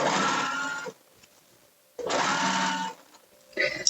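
A domestic sewing machine stitching fabric for a wrap dress runs in two short, close bursts of about a second each, separated by quiet pauses, with a third burst starting at the end.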